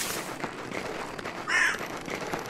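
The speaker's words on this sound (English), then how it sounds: "The fucking birds." Several crows caw in the video game Bigfoot, with a few harsh calls and one louder caw standing out over faint background ambience.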